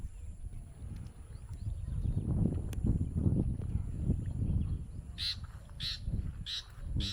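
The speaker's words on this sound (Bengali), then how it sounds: "বাহ, কি সুন্দর একটা পাখি ডাকছে," A bird calls near the Ichamati river by a flooded brick kiln, a few bright repeated calls arriving late over low outdoor rumble and handling noise, with no talk.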